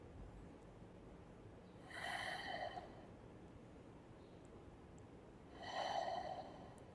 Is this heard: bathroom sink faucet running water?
no